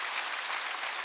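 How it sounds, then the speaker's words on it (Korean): A congregation at a church's Wednesday worship service breaks into steady applause, a continuous wash of many hands clapping heard from a moderate distance and fairly soft. "회개하면 박수 치라고."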